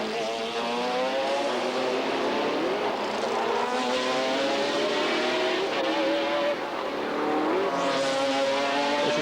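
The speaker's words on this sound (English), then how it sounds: "Henri Raffinel pushing hard in the Gulf McLaren" A Gulf McLaren GT race car at speed during a 1997 FIA GT race in Helsinki, its engine a loud, continuous high-revving howl with shifting pitch and a few gear changes, heard over distant crowd noise.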